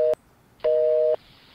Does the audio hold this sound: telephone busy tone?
yes